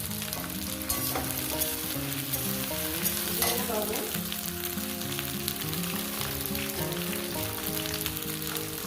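Potato and okra pieces fry in oil in a pan, a steady crackling sizzle with fine spattering that runs the whole time beneath background music.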